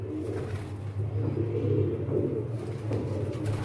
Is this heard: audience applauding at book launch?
no